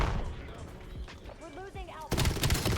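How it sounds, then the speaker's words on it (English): A grenade detonating in the Black Ops 7 video game, a loud burst near the end among scattered gunfire and game sound effects, with a voice speaking over the action. "Oh, that's a grenade."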